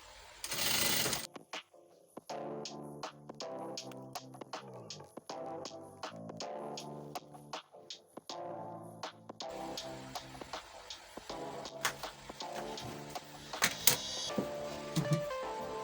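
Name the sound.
sewing machine sewing corset mesh fabric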